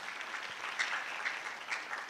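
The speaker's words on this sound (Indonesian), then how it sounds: "Tepuk tangan untuk beliau." Applause for a professor at a university public lecture in Indonesia, with a short burst of moderately faint clapping from the audience continuing evenly for about two seconds.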